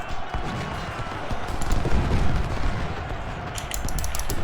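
Cannon and artillery fire from a Civil War battle in the video game Ultimate General: Civil War, a dense, continuous roll of booming blasts and crackling shots with a muffled voice faintly underneath.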